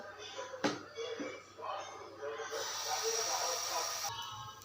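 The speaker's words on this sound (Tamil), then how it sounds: "நம்ம கல் போட்டு சூடாயிருச்சு இப்போ தோசையும் ஊற்றிக்கலாம்" Dosa batter poured onto a hot stone griddle gives a steady, close sizzling hiss that swells and holds loud for several seconds, with a faint low hum underneath.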